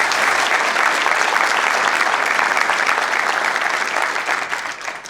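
Sustained, dense applause from a crowd in a city council chamber fills the room steadily for several seconds before tapering slightly at the end.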